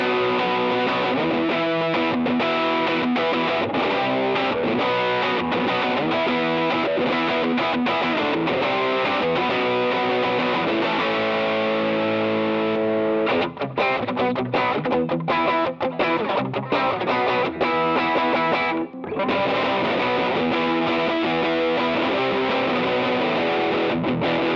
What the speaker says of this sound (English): I press this button, it bypasses the Green Screamer,